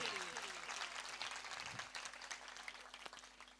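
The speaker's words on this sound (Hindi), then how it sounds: "तालियां बजाएं जी इसके लिए।" A church congregation clapping during a Hindi-language sermon, a soft, steady spatter of hands from across the room, fairly faint and filling the whole stretch.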